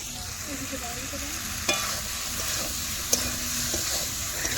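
Snail curry with spices being stir-fried in a pan, a steady close sizzle with occasional spatula knocks and scrapes throughout.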